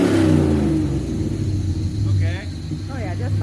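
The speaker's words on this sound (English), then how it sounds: "I should be able to rev just fine." Chevy S10 Blazer engine with a Holley Terminator X system revving while sitting in place, a loud rumbling rise followed by two short throttle blips, with someone talking over the start.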